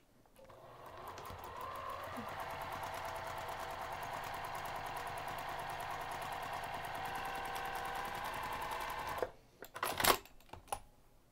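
A sewing machine runs steadily, stitching a 3/8-inch seam along a fabric lining for a woven Easter basket. The motor hums evenly for about eight seconds close up, then stops, followed by a few light handling clicks.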